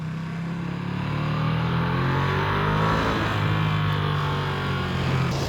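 A Ducati Streetfighter V2 twin-cylinder motorcycle engine drones at high revs in second gear, holding a steady roaring pitch that swells slightly, loud and continuous with no voices.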